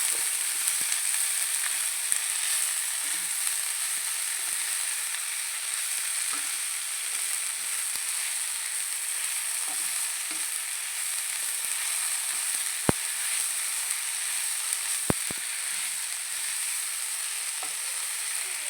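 Steady, even sizzling of moringa (drumstick) leaves stir-frying in a pan for a coconut upperi, with a few sharp clicks of the spoon against the pan, heard up close with no talking.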